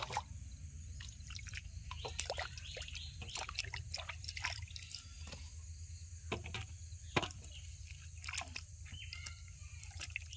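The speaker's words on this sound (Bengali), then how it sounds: "সবকিছু ধুয়ে নেবো।" Greens and potatoes being rinsed by hand in water, with scattered splashes and drips over a steady low hum, and faint insect chirps in the background.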